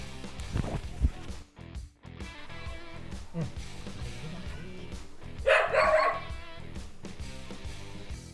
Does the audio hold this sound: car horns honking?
no